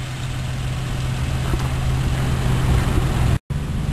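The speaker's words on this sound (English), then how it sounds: "Engine running, no knocking, no banging, excellent running condition." A 2004 Infiniti G35 Coupe engine idles steadily and close by, a constant low hum with a brief cut near the end and no talk over it.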